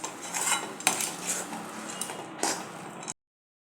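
A spoon scrapes and clinks against a pan while stirring thick jowar (sorghum) dough as it cooks and firms up on the stove, with steady, close scraping and a few sharper knocks.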